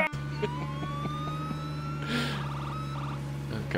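Ambulance siren in the zombie survival game State of Decay 2, a rising wailing tone over a low steady engine drone, close and fairly loud, with a brief burst of noise midway.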